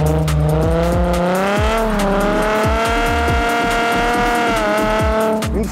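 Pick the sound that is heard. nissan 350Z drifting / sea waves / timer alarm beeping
nissan 350Z drifting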